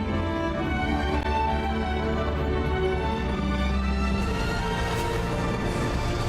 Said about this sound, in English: I miss the music that sounds like this in Star Rail.